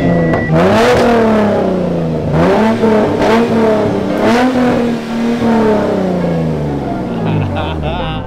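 A car engine revs hard several times nearby, each burst rising in pitch and falling back, with the engine droning loudly throughout and people talking over it.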